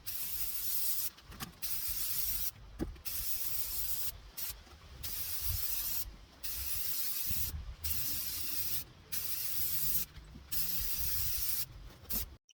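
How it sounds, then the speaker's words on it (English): Brown spray paint hisses from an aerosol can onto a white planter in a backyard, the close, airy bursts coming in a series of sprays, each a second or two long and separated by short pauses, with no talking. "I'm using the brown spray paint, which is the color Mudslide, and I'm going to go over the whole white"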